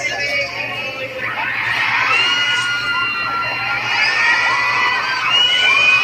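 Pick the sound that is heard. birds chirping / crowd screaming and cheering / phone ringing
crowd screaming and cheering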